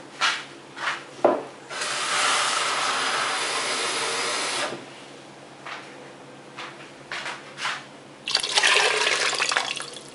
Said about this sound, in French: On va mettre plus d'eau.